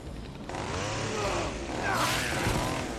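A chainsaw revving in the zombie video game Dead Rising 3, its buzzing engine rising and falling continuously over busy game sound.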